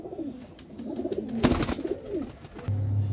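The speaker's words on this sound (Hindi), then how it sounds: "ये देखें कबूतर माशाल्लाह" Domestic flying pigeons with fresh new feathers give a soft, throaty cooing in repeated low rolling calls, close by, followed by a steady low hum near the end.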